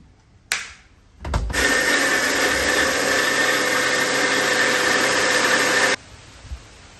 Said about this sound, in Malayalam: വെള്ളത്തിലിട്ടത് മിക്സിയിലിട്ടിക്കണം കേട്ടോ. അതൊന്ന് അരച്ചെടുക്കട്ടെ.